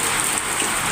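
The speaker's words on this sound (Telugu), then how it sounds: "మామూలుగా వల్లేదనమాట వర్షము, కుండపోత వర్షము." A heavy thunderstorm downpour roars as a dense, even wash of rain, loud and unbroken for a brief moment with no voices.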